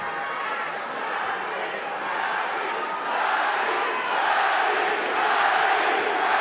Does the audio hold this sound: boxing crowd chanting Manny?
yes